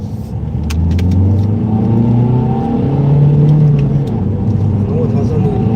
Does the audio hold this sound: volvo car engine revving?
yes